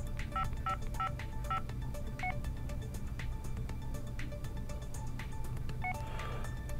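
Samsung Craft phone keypad emitting a series of short dual-tone beeps as keys are pressed while typing a text message, clear and close, in irregular bursts over a low background hum.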